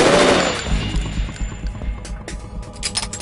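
Gunfire in the video game Metal Gear Solid 2, a loud burst at the start followed by rapid repeated shots and fading echoes, with no talk over it.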